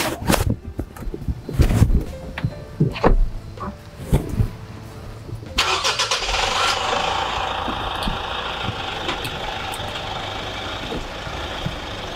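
A car engine is started with the key outdoors in hot sun. Clicks and handling knocks come first, then the engine catches and settles into a loud, steady running drone that continues to the end.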